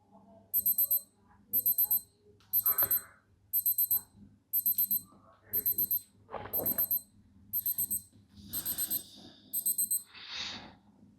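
A Casio G-Shock watch alarm set to flash mode sounds about ten short bursts of rapid high-pitched beeps, roughly one burst per second, over quiet background noise.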